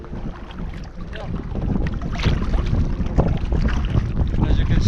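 Wind on a Scottish sea loch heard from a sea kayak out on the water, a steady loud rushing gust noise buffeting the microphone, building slightly over a few seconds with faint water sounds.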